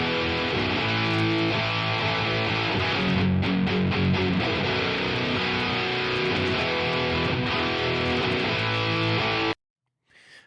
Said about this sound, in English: my main rhythm tracks that I tracked with my ESP SC500 going through a Mesa Boogie dual rectifier